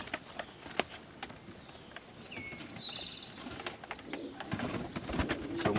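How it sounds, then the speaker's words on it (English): Pigeons near their coop with a soft cooing call midway, set against a steady high insect or cricket drone and scattered faint clicks and rustles. "And pigeons are very smart."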